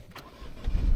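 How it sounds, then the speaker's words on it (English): A car's engine starts up automatically when a door is opened after stop-start shut it off, with a short cranking catch that swells into a low rumbling idle within about a second. "because I opened the door, it started the engine up"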